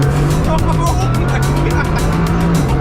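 A Bugatti Chiron Super Sport launches hard under launch control, a loud, dense engine roar with tire noise that stays steady and close throughout, with voices over it.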